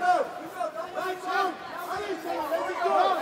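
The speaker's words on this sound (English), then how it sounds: "The crowd here is getting behind their Singaporean and trying to urge him on to victory" A fight-night crowd roars and chatters behind its Singaporean fighter, a steady, dense wash of voices with swelling shouts, heard from inside the arena.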